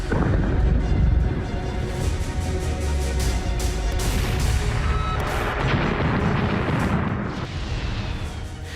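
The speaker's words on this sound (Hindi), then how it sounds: "धमाकों की आवाज से तमाम इलाके थर्रा रहे हैं।" Repeated heavy booms and blasts of wartime explosions in Lebanon during the Israel–Hezbollah conflict roll through a loud, chaotic soundscape, with sharp bursts scattered throughout and no talking.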